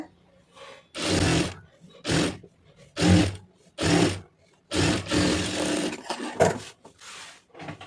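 A sewing machine stitching a blouse lining runs in short bursts of about a second each, separated by brief pauses, loud and close.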